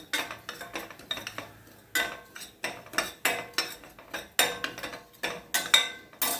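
A metal spoon scrapes and clinks rhythmically against a pan while fasting flour roasts over low heat, with repeated stirring strokes about twice a second, close and crisp.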